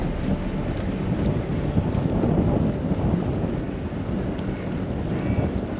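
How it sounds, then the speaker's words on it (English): Steady wind gusting across a boat on the Norfolk Broads, a constant broadband rush with low buffeting rumble from wind on the microphone, loud and continuous with no voices. "It's getting a bit breezy now."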